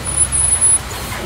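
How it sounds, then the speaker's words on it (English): A city bus engine in the video game Everlasting Summer rumbles low as the bus pulls over, a short steady drone with a faint high whine that fades out partway. "The sound of an engine brought me back to reality. The bus."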